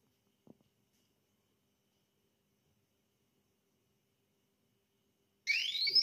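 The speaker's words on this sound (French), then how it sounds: "quand le réservoir est plein, on va entendre un petit bip" After long near-silence and a soft click, a short electronic beep sounds near the end, clear and close: a compact countertop dishwasher signalling its water tank is full.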